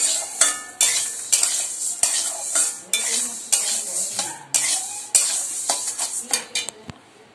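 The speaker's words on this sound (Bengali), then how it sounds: "মুগের ডালটা একটু ভেজে নিচ্ছি ভালো করে।" Mung dal dry-frying in a pan while being stirred, with repeated scraping strokes of a utensil against the pan and a soft sizzle underneath, close and steady, with no talking.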